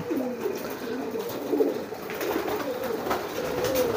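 A racing pigeon selected for strong giring gives a low rolling coo, close and continuous over steady background noise, with faint other calls behind it.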